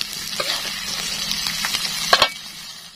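Fish sizzles in hot oil with onions in a pan, a steady bright frying hiss with a few louder crackles and spits near the end, close and with no talking.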